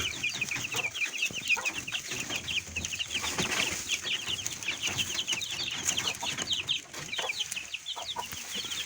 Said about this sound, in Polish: Cztery są sztuki, z czego jeden jest kogut, tamten grzbiet ma taki widocznie większy.